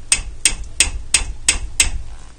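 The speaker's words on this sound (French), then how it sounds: "un petit coup de marteau pour bloquer" Six sharp metallic hammer taps at a steady rhythm, close and loud, while fitting new brake discs and pads on a Renault Megane Scenic 2.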